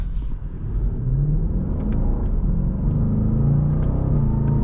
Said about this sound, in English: Oh man, that exhaust is so good too.